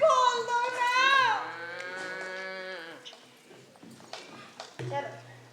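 A cow moos loudly and close up in one long, drawn-out call that slides downward, followed by scattered shuffling and thumping sounds and a short low grunt near the end.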